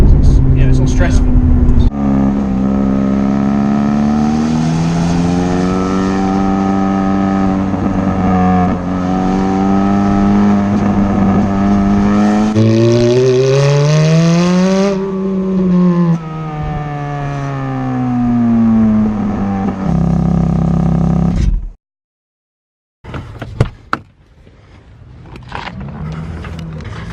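A Ferrari F430's engine roars loudly from inside the car during a drive, rising and falling in pitch through gear changes, with a sharp cut near the end followed by brief clunks.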